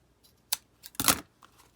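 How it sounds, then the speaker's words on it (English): Scissors snipping a watercolor journal card decorated with pressed flowers: a couple of short, crisp cuts close by, the second longer and louder, with quiet pauses between. "I like to cut it where it's sticking up."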